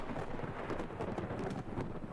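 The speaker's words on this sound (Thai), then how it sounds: "เฮ้ย ฝนตกอ่ะ" Rain starts with low rolling thunder in a Thai drama scene, a dense steady patter and rumble at moderate level with no talking.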